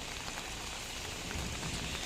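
Steady heavy rain splashes down around a small roadside food shop on a wet day, a dense continuous hiss close by with no talk.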